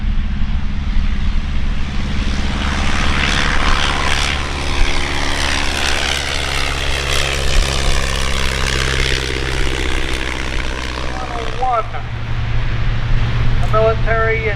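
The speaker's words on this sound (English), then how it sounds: "first to take off, just like earlier today, Dave King in his de Havilland Tiger Moth" A 1930 de Havilland Tiger Moth biplane taking off at an antique airfield, the propeller engine swelling to a loud, steady drone that fades after about twelve seconds, with someone talking over it.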